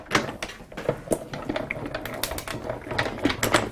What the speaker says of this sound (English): I can cut both of these at the same time.